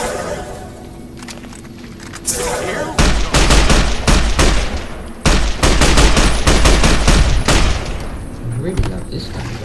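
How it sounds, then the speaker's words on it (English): Rapid bursts of gunfire from a weapon in Fallout: New Vegas, loud and close, firing in clustered volleys with short gaps between strings of shots over a low game backdrop. "I really do love this gun."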